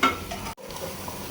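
Food fries in a kitchen pan while being stirred, a close sizzle with scraping strokes that cuts out briefly midway and then resumes.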